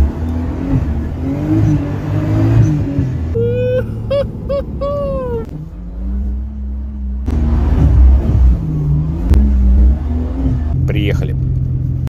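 A car with a manual gearbox, hydraulic handbrake and modified suspension drives along, its engine droning and rising and falling steadily through the whole stretch, with whining tonal sweeps over the rumble and murmured voices inside.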